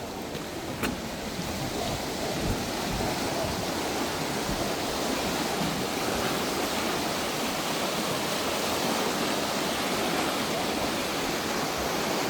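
The swollen Pambak river in Lori, Armenia, rushes in a steady, broad roar of flood water, close and unbroken for the whole stretch.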